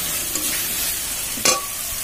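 Spice paste with green chilli and salt for prawns fries in a pan with a constant bright hiss, and one brief scrape of a spoon near the end, close and without talk.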